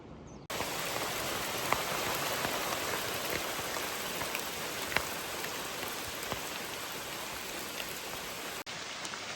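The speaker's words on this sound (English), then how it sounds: "Still raining out here." Steady rain pours down on a hiking trail on Kauai, Hawaii, in a dense, even hiss, with a few sharper drip-like taps standing out now and then.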